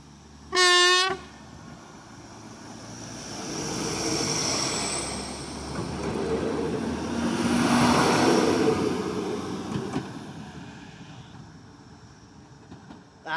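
Diesel train blasts a short, loud horn near the start, then roars past with rising and fading rumble and rail noise, swelling twice before trailing off.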